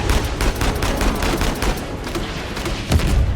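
Rapid gunfire in the video game Uncharted, a dense fusillade of overlapping shots and bursts, loud and continuous with a few heavier blasts, no speech over it.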